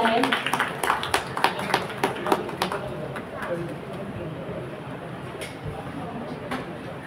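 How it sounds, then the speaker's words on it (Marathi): Crowd at a felicitation ceremony clapping in a scattered, uneven burst of hand claps that thins out, with a continuous murmur of voices and background talk underneath. "सर्वांनी टाळ्या वाजवायच्या आहेत"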